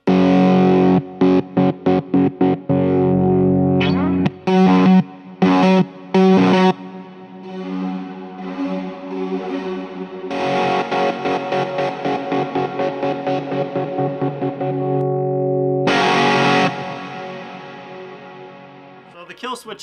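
A 2019 Fender Vintera 60s Modified HH Jaguar electric guitar played through distortion, loud buzzing chords and sustained notes broken by choppy stutter-like cuts and a short bright burst near the end, with no talking.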